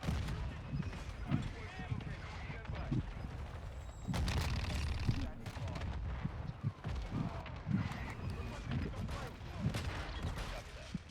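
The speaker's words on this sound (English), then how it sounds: "Friendly mortar strike inbound." Mortar strike in Modern Warfare II: a run of heavy booming explosions and blasts mixed with game gunfire, loudest toward the middle, with voices talking over it.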